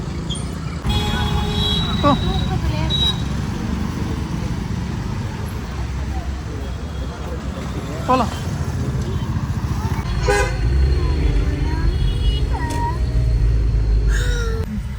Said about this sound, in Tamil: திருப்பூரில் இந்த இடம் மட்டும் அவ்வளோ டிராஃபிக் ஆகும்